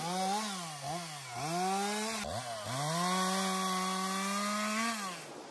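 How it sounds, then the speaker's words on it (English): A chainsaw runs steadily, its engine pitch rising and dipping as it revs through wood being cut for a woven wire farm fence with wood posts, close and loud with no talk. "Deb's gonna get on the chainsaw"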